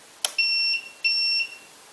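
A J-Mini drone's flight controller gives two clear electronic beeps on arming, each a steady high tone lasting about a third of a second, preceded by a brief click, loud and close in a quiet room.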